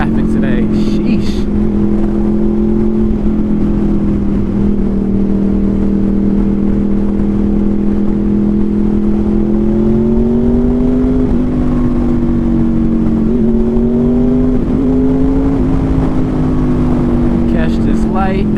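Honda VFR800 motorcycle riding through road traffic, a steady droning engine hum that swells and shifts in pitch as it moves, with someone speaking over it.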